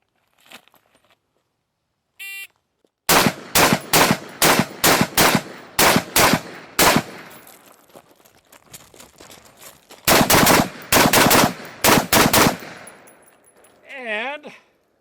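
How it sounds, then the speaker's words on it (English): Rapid strings of loud, close rifle shots from an AR-style rifle fired at targets, two bursts of about seven and six cracks separated by a pause, with a brief voice at the end. "I'll shoot 3 shots each, starting on the center target first"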